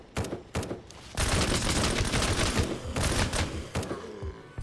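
Rapid turret gunfire in the zombie shooter game Surroundead, loud bursts of close automatic shots merging into a dense sustained volley in the middle, with no talk.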